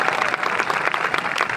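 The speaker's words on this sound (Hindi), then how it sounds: "ताली बजाओ तो ढंग से" An audience at a large motivational event in Lucknow breaks into brisk, dense clapping, many hands together at an even level throughout the short burst.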